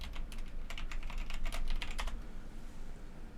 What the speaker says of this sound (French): Désolé pour mon gros clavier bruyant.